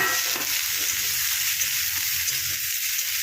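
Green chilies and capsicum fry in hot oil over high heat, a loud steady hiss of sizzling with faint stirring scrapes and no voices.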